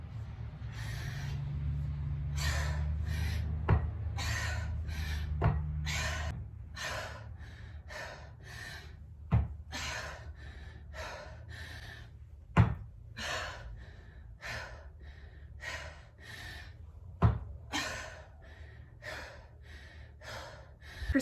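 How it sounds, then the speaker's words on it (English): Heavy breathing between lifts during a workout: repeated loud gasps and exhales in short bursts, separated by occasional sharp thuds of equipment, close and alone without talk. "So you're either breathing 1, 2, or 3 times in between your lifts."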